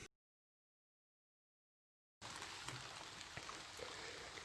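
Steady rain falls outdoors on a dark evening, a dense, even hiss with scattered drops that cuts in after a short silence and continues to the end.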